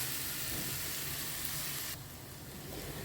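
Eggplant slices fry in a tawa-style frying pan for Hyderabadi tawa baingan, a steady close sizzle with broad hissing that drops slightly softer near the end.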